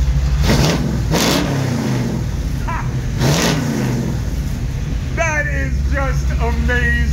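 A 1976 Chevy Nova four-door sleeper idles with a deep rumble and then throttles up in a few sharp revving bursts, loud and close. Voices talk over the engine near the end.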